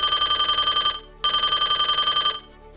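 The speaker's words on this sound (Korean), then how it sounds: "목요일 아침 거실의 전화기가 갑자기 요란하게 울리기 시작합니다." A telephone bell rings loudly in a living room, two long bursts of ringing separated by a short pause, close and alone.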